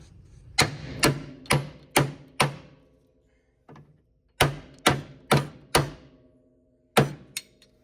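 Hammer blows ring out on a stuck right-front lower control arm of a 1969 Mercury Cougar XR7 convertible, in two bursts of about five strikes, a pause, then two final hits. Each strike is sharp, close and loud.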